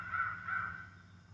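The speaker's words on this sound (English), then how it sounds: "I'm having a lot more crows call back right now." Distant crows cawing back during a solo air-rifle crow hunt in Indiana, two drawn-out caws over a low background hum, faint and outdoors.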